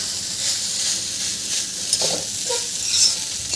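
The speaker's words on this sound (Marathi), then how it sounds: "इथे मी याला छान मिक्स करून घेते" Street-style veg fried rice is stir-fried and tossed in a pan, giving a steady close hiss and sizzle with a few soft scraping strokes of the spatula near the end.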